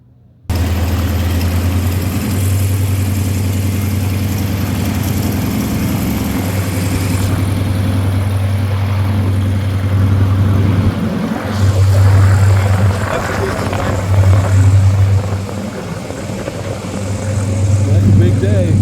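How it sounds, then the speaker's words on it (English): The radial engine of a Yak 50 aerobatic aircraft, started with an air starter, catches and settles into a loud, close, rough droning run that swells and dips, with voices partly over it. "it just catches one and then it pops and the engine comes right to life"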